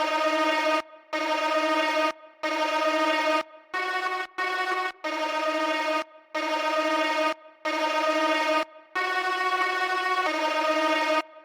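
String sample chopped into slices in FL Studio's Slice X and pitched up 300 cents, heard as a choppy sequence of bowed string stabs of varying lengths separated by short gaps, played alone.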